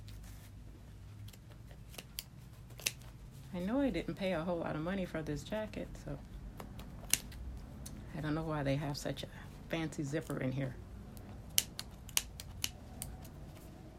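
Scissors snip a little at a time through an old fancy zipper in a cheap sports jacket, making dry crisp cuts and scraping fabric while someone talks close by throughout.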